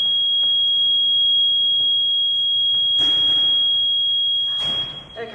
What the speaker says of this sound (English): the doors in this building are very touchy. If they're open too long, they like to beep.